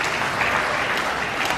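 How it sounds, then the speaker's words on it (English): Steady, dense applause from a crowd at a 2018 Asian Games men's doubles tennis gold medal match between India and Kazakhstan, a continuous wash of clapping with no voices standing out. "Nice to see Bublik and Yevseyev applauding them for that and giving them congratulations."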